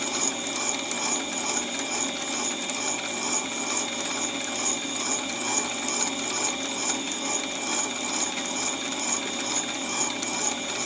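Drill bit boring a 9mm hole into metal stock, a steady whirring grind with a faint rhythmic ratcheting chatter that runs continuously and close for the whole stretch, with no speech.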